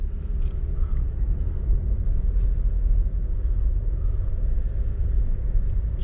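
Chevrolet Sonic bought at auction, driving under its own power: a steady low engine and road rumble heard from inside the cabin, continuous and fairly loud, with no talking.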